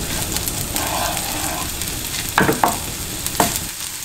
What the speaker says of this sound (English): Add 1 tablespoon oil. Add scallion whites when hot.